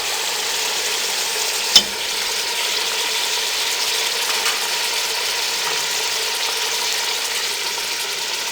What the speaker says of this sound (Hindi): अब इसमें हम दही डाल देंगे।